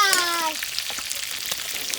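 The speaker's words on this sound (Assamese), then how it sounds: "এয়া লাষ্ট ফিনিচিং আমাৰ কেঁকুৰা ভাজি" Crabs fry in a pan with a steady crackling sizzle, while a brief voice-like tone sounds over the frying at the start.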